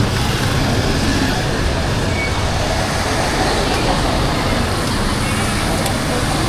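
Continuous roar of busy downtown street traffic on Justice Romualdez Street in Tacloban, a steady wash of vehicle engines and road noise up close, with passing buses and cars blending into one loud, unbroken bed.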